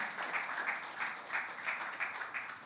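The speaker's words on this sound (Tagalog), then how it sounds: "Sige po, malakas sa palakpak para sa ating Panginoon." A church congregation claps together as an offering of praise during worship, a steady dense applause with rolling swells, moderately distant and continuous without speech.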